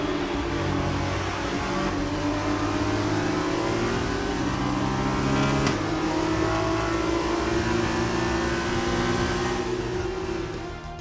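Formula 2 race car engine from the F1 2020 racing game, a loud, continuous high-revving whine with shifting harmonic tones as the car slows after the race, steady throughout with no talk.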